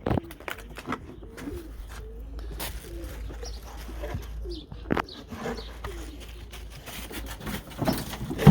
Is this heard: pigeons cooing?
yes